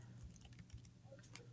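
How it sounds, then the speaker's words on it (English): Faint, quick clicking of fingers typing on a computer keyboard, a run of soft irregular keystrokes close by. "when I start to type in that person's name, it highlights"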